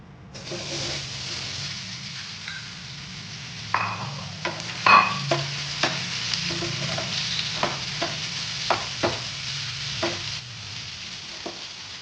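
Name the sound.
stirring ripe mango pieces in a pan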